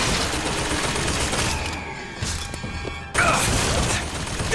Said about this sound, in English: at least that blew up the turret